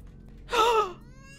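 A baby character bawls in the video game Baby House: one short, loud wailing cry with a quavering pitch, rising and falling over about half a second against quiet game background.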